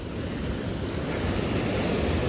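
Ocean waves wash onto the soft-sand beach at Playa Cerritos, Mazatlan, a steady, dense rush of surf with some wind noise across the microphone and no voices.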